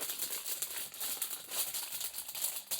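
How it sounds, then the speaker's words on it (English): Wrapping paper crinkles and rustles steadily up close as a vintage item is unwrapped, a continuous dry crackling with no speech. "See if I can open it up without crinkling it too much"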